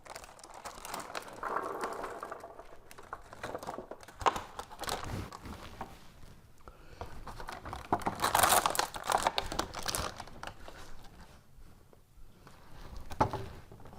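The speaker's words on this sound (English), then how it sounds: "I'm going to go ahead and put these blueberries on this tray so I can sort through them quickly" Blueberries in a resealable plastic package are tipped out onto a tray, with plastic crinkling in bursts and soft tumbling patters, close and fairly faint, with no talk.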